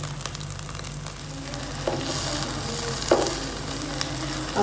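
Pieces of marinated mutton tikka boti sizzling steadily on a grill, a dense, even frying hiss with a few faint clinks and scrapes.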